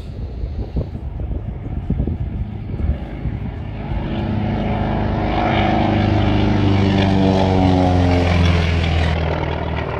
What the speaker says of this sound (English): It's going to get very noisy here in a second as this Trojan takes off